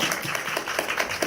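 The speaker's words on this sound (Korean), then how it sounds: "네, 박수." An audience claps at a film festival talk with the director and cast, a short burst of scattered, fairly dense applause at a moderate distance.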